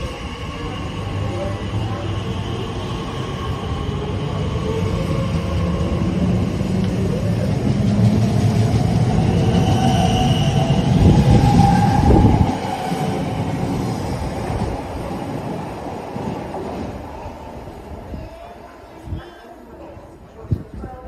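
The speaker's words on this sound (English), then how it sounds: "I'll record the train leaving station." A train pulls out of Ealing Broadway station with a steady rumbling roar that swells and then eases off, followed by quieter platform noise and a couple of knocks near the end.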